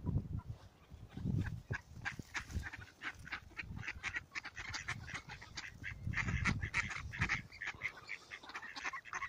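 Ducks quacking near the water, a flock calling in repeated overlapping bursts of quacks at close range, loud and continuous with no talk.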